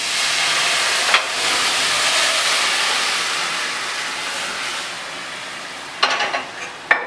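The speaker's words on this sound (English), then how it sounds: "We're going to have a little bit of flambe with the brandy." Brandy flambéed in a steak au poivre pan, a loud, steady roaring hiss and sizzle up close, with a few sharp crackles and clatters near the end.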